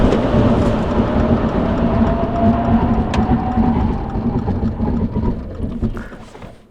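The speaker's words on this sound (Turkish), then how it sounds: "Şurada bir de fren testi yapmak istiyorum arkadaşlar." A Subaru Forester e-Boxer, a 1700 kg SUV, brakes hard during a brake test, a loud steady rumble of tyres and road noise from inside the cabin with a faint rising whine, easing off toward the end.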